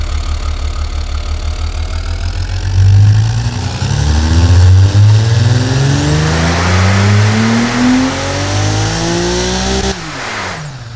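A game-simulated inline-six engine, carbon-built and rated 263 kW at 6,400 RPM, idles with a rough pulsing burble, then revs up in repeated rising sweeps that climb steadily before cutting off abruptly near the end.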